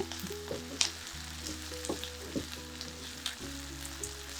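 Onions sauté in a hot pan, a steady close sizzle with occasional stirring scrapes, quiet and continuous with a low hum beneath.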